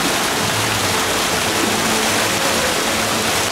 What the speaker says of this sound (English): Right here we have my favorite fountain in all of Dollywood.